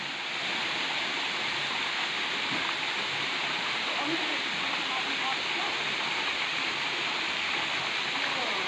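Satashidham waterfall rushing in a steady, broadband roar of falling water that holds constant throughout, with faint background activity mixed in.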